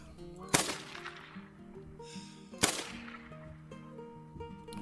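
Two loud rifle shots ring out in the hunting game theHunter Call of the Wild during a turkey hunt, about two seconds apart, each a sharp crack followed by a rolling echo over quiet game ambience.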